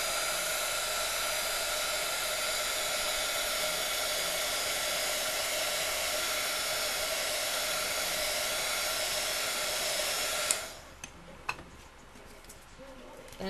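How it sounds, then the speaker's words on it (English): A craft heat tool blowing hot air to set ink, a continuous loud whirring hum that cuts off abruptly near the end, followed by faint clicks and handling. "And then I'm going to heat set it a little bit."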